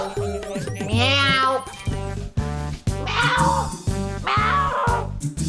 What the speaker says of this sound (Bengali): বেড়াল ডাকছে কেন?